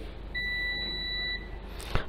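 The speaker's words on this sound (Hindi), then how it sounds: "लॉन्ग बीप आएगी और अभी ये एटमॉस्फेयर में मौजूद रेफ्रिजरेंट को सिद्ध कर रहा है" An AC refrigerant leak detector gives a single long, steady high-pitched electronic beep lasting about a second over a low background hum, followed by a faint click.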